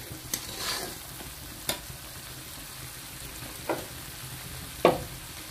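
Spices sizzling and frying in a pan for a Bengali winter vegetable dish with lentil dumplings, a steady soft hiss throughout, with a few sharp spoon scrapes as the mixture is stirred, close by and without talk.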